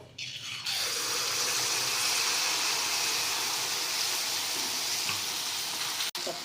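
Mango poa pitha frying in hot oil, a loud steady hiss and bubbling sizzle that sets in after a moment and carries on evenly throughout, close up, with a brief sharp tap near the end.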